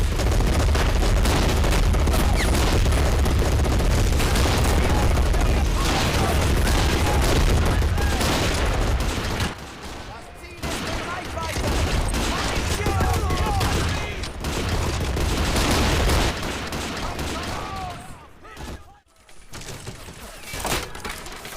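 Battle in the Men of War strategy game, with dense rattling gunfire and scattered single shots over a loud continuous din, thinning out in the second half with sharper isolated cracks.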